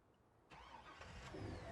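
A truck engine in Farming Simulator 19 cranks and catches after a half-second of quiet, then settles into a mid-pitched idle that grows slightly louder, with no talk.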